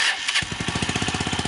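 Motorcycle engine catching after a brief starter burst and settling into a fast, steady close putter, loud and alone.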